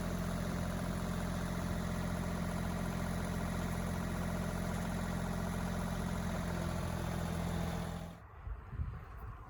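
A tractor engine idles in a steady, close, low rumble with a constant tone for about eight seconds, then cuts off abruptly, leaving faint background noise while a sled deck is moved on a trailer.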